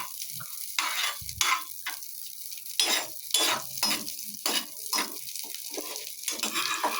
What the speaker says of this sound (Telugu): ఇప్పుడైతే కిస్మిస్ బాగా నెయ్యి పట్టేలా వేపుకోవాలి చక్కగా